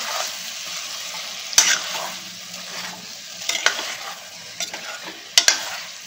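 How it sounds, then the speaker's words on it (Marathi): Chicken sautéing in a pressure cooker over medium heat, a constant gentle sizzle with a few sharp metallic clicks and scrapes from the stirring spoon. "चिकन परतून घ्यायचं आहे"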